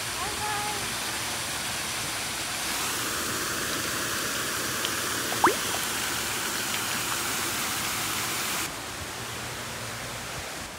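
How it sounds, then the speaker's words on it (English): A small waterfall pours in a steady, dense hiss of rushing water that holds at an even level throughout, with faint voices briefly audible beneath it. "Look at the waterfall."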